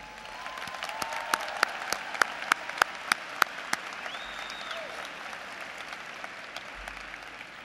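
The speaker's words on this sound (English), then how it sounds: "Let us join in giving a round of applause" A crowd at a university commencement ceremony applauds steadily, with several sharp, distinct claps standing out near the start over the continuous clapping.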